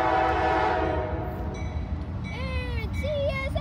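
A CSX freight train with boxcars passes through a siding in Peachtree City, its rumbling rail noise steady while the horn sounds in several short blasts near the end, fairly close and loud.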